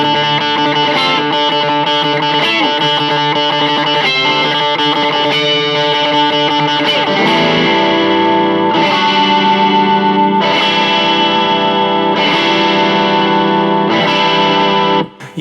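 A Gibson ES electric guitar is played with its volume rolled back, a run of overdriven chords and notes with chorus and echo, busy at first and then spaced into ringing strums, loud and alone with no voices.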